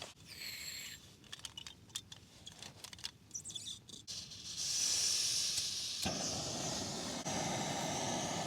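An MSR Pocket Rocket camping gas stove burns during a wild camp in the Brecon Beacons: handling clatter first, then a steady, close roaring hiss that swells louder and holds constant to the end.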